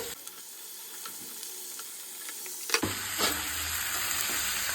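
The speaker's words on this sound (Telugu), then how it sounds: "ఆలు ఒకటేసారి వేయించుకోవాలండి. అప్పుడు రెండు కలర్ వస్తుంది, ఆలు కూడా కొంచెం ఉడికిపోతుందండి" Sliced onions and potatoes fry together in a pan, a quiet crackle that jumps to a louder, fuller sizzle partway through as they hit the hot oil and keep hissing steadily.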